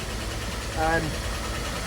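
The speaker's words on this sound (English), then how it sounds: "So you'll notice the idle seems very high." A car engine holds a fast idle on its automatic choke during a cold start. The faint, steady hum carries a brief rising whine near the middle, and a voice talks over it.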